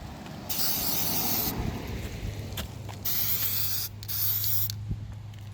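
Bursts of DEI high-temperature spray coating hissing from an aerosol can onto a car part, several long sprays separated by short pauses, close and steady, with a low hum underneath.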